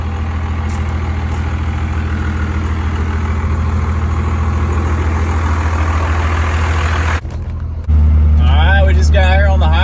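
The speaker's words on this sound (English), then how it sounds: "Got her on the highway. She rolls out, the pull's good." A bone stock 12 valve truck, loaded for heavy hauling, cruising on the highway with a steady low engine drone and road roar throughout, a brief drop near the end, then someone talks over the continuing rumble.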